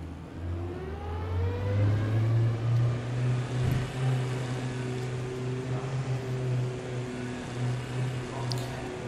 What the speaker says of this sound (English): Slightly lower revving engine by the sound of it, and away we go.